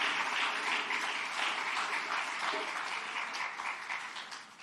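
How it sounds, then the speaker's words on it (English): Sustained audience applause honoring Vanguard Award winners at a Malcolm X commemoration event, a dense wash of many hands clapping that holds steady and then begins to taper toward the end. "So please give them another round of applause."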